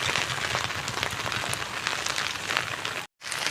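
Heavy rain falls outside a house beside a road, a dense, even roar of drops on surfaces that cuts out for a moment near the end.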